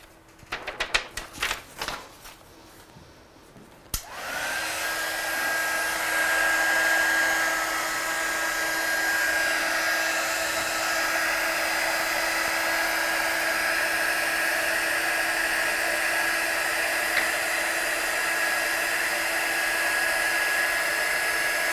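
A heat embossing tool blows hot air over a stamped Christmas card, starting with some faint handling clicks before the steady, close whirring hum of the blower runs on without talk.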